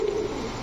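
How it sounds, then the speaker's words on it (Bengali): A male military pigeon gives a single low, soft coo, close by and fairly quiet, over a steady background hiss. "এটা হচ্ছে নর কবুতর"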